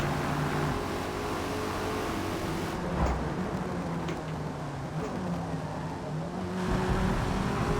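Holden Torana A9X racing at Brands Hatch in Forza Motorsport, its engine droning loud and steady throughout, with a brief dip and surge around a clumsy manual shift into fourth gear.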